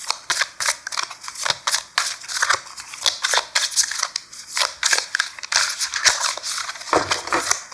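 Tarot cards are shuffled messily by hand, a close run of quick crisp riffles and slaps in an irregular rhythm, with no talk.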